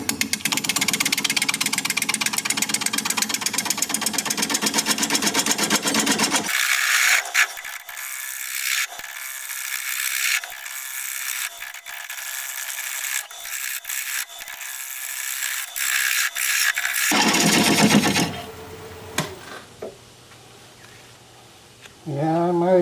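A wood lathe spins a thinning bowl blank at about 500 RPM, with a steady motor hum and scraping tool contact that drops away partway, then a brief clatter near the end.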